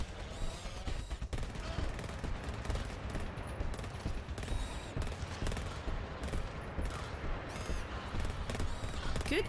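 Combat shotgun fire in GTFO, a co-op shooter, comes as rapid bursts of blasts mixed with other weapons and impacts, busy and continuous but fairly quiet, with players talking over it.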